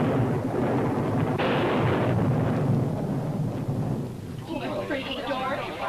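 Thunder from a lightning storm rumbles loudly and continuously, a long rolling boom that fades toward the end, heard alone without talk.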